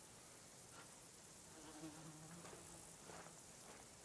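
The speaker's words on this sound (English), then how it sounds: "I love how you can just hear like the flies buzzing in the background" Faint flies buzz softly in the background of a medieval scene in the video game Kingdom Come: Deliverance 2, a low, wavering drone over steady ambient hiss with no talk.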